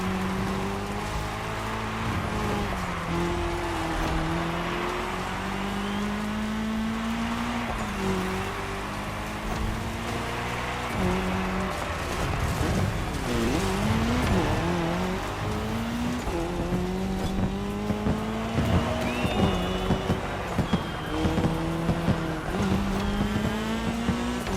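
Race car engines roar through a cross-terrain race in The Crew Motorfest on PS5 Pro, with steady revving and gear-shift pitch sweeps, a continuous loud drone and tire noise that stays unbroken throughout.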